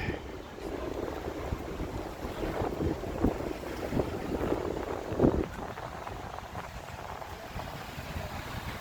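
Wind gusting along Bay Street in downtown Toronto in January, a steady low rumbling buffet against the microphone that swells in a few stronger gusts.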